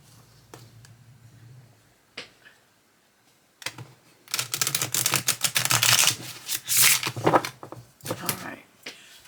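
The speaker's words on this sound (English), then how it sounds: "I like the way glossy cards shuffle" A new deck of glossy After Tarot cards being shuffled by hand: a few soft isolated taps, then dense bursts of rapid, crisp flicking and slapping up close, with brief pauses between riffles and a low hum underneath.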